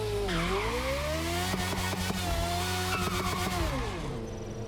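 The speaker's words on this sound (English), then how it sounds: "Like, I can dart about in a Ford Focus that sounds like this?" A Ford Focus swapped to a V8 Formula 1 engine in The Crew Motorfest screams loudly and alone, its pitch climbing and dropping through rapid revs and shifts with a brief tyre squeal.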